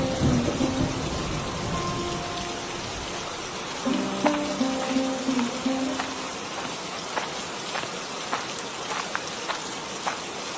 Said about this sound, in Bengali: একিরে রতন, এই বৃষ্টির ভেতর জমিতে কাজ করব কিভাবে?